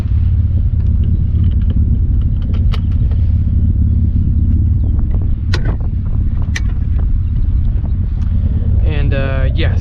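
Mitsubishi Eclipse GTS with a manual transmission that is bad at low speeds, driving along with a steady low engine and road rumble, a few clicks and a brief whine near the end, and a person talking over it.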